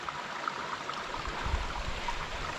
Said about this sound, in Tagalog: Tama-tama, makakainom ako ng tubig, may bukal dito.